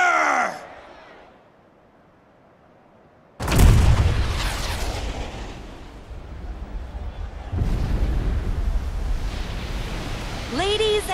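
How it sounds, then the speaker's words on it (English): Junon's giant cannon fires in the Final Fantasy VII Rebirth video game: a sudden massive boom after near silence, then a long rolling roar and rumble, with a second surge of blast noise and whooshing effects. "with a single blast of Junon's famous cannon, Rufus Shinra has announced his arrival."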